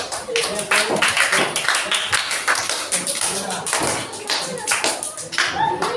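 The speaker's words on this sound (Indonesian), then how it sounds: "tepuk tangan buat kelompok 3" A classroom group of university teaching students claps hands after a group presentation, a brisk, uneven round of many hands clapping at moderate loudness, with some voices mixed in.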